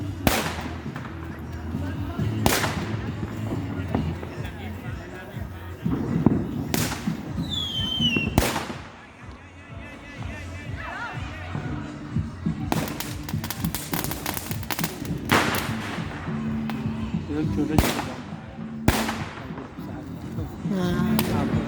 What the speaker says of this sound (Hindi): ये तफरी में ये लोग सिर्फ माचिस बम ही फाड़ रहे हैं।